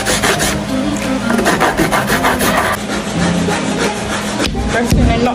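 Sweet potato rubbed against a metal grater for pudding, a steady dense rasping scrape that runs continuously and loudly throughout, close by.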